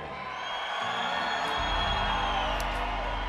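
Crowd noise fills an MMA fight venue in Mexicali, a broad steady roar of cheering and whoops that swells a little midway, with a deep rumble underneath.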